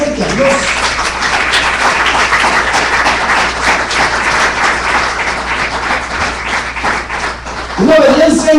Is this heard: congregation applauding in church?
yes